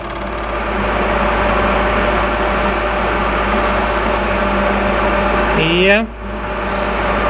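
A small power tool cuts a tiny chamfer on a photographic lens part with a light clamp, giving a steady high-pitched mechanical whine and hum throughout that dips briefly near the end, with talk over it.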